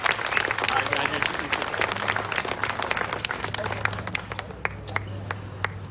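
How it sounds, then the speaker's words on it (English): A crowd applauding steadily for several seconds at a graduation ceremony, dense overlapping claps with sharper individual claps standing out, fairly close, with a low hum underneath. "can we have a round of applause for our board and the other invisible support"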